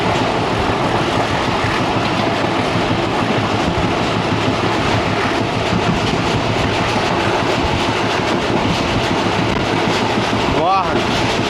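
Inside the second coach behind the engine of the 228DN shuttle train from Multan Cantt to Kot Addu, a loud, continuous rush of wind and wheels runs with rhythmic clickety-clack of the rails, close and steady.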